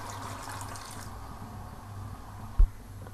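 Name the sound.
half cup of water poured into kofta curry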